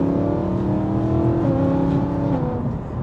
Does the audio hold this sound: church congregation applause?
no